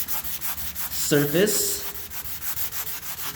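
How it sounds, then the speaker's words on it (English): A hand sanding block rubs over a filled, patched surface being smoothed for paint. Rhythmic back-and-forth scraping strokes sound close up, and a voice briefly speaks partway through. "I just have a sanding block here. And what I'm gonna do is just lightly sand off to create a nice smooth"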